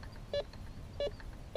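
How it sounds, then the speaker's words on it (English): A Bounty Hunter Tracker IV metal detector sounds three short, evenly spaced electronic beeps as its coil sweeps over a buried target, clear against faint background noise. "Take visual note of this place on the ground where the beep occurs as you move the coil from side to side."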